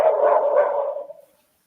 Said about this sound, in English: Sounds like another dog